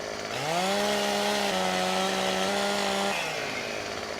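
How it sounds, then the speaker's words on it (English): Chainsaw cutting trees in Farming Simulator 17, a loud continuous droning motor that revs up, holds steady for roughly three seconds with slight pitch dips, then cuts off, no talking. "cutting with a chainsaw, but we're just going to eye it and chop"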